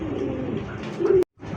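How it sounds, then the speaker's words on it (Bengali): A single pigeon at a wholesale pigeon market gives a soft, low coo close by, rising at the end and then cut off by a brief silence. "এই মুহূর্তে দেখতে পাচ্ছেন একটা সিঙ্গেল একটা কবুতর"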